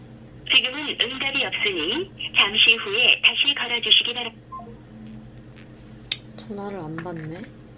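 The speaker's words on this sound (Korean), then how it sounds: "전화를 한번 해볼 겁니다." A phone call being placed for a refund on an undelivered order: two quick bursts of keypad dial tones, a short pause, then a warbling ring tone near the end, loud and close with little else underneath.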